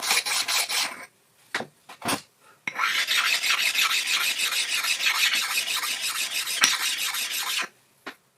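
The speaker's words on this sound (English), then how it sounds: "the sound of the stone changes to a softer sliding tone" A sharpening stone rasps back and forth across the metal slideways of a 7x12 lathe in steady strokes, close up, with brief pauses between runs of scraping.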